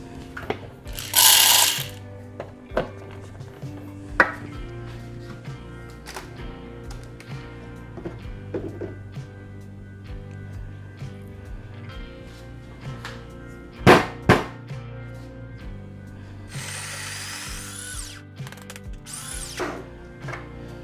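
A coffee grinder set fine, at setting 2, grinds beans for ristretto. Mechanical clicks and ratcheting rattles come in scattered bursts, with a louder whirring grind near the end.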